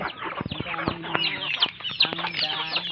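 Chickens cluck steadily at feeding time on a backyard farm, a busy flock of overlapping, close, moderately loud calls in an irregular rhythm, with no talking.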